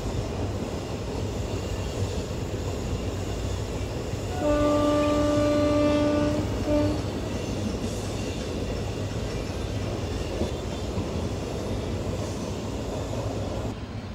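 The 16116 Puducherry–Chennai Egmore (PDY MS) Express runs along at dawn with a steady broadband rumble, and a sustained horn blast sounds for about two seconds midway, followed by a short second toot.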